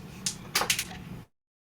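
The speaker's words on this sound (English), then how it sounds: "That was the sound of one of my dice dropping." A tabletop gaming die drops and clatters during a tabletop role-playing session, giving a few quick close, bright taps and rattles over about a second before falling silent.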